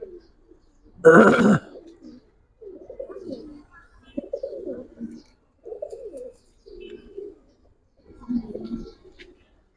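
Giribaz pigeons, an old breed, give a series of soft, low coos in short phrases spaced a second or so apart, close by, with one brief louder rustling burst near the start.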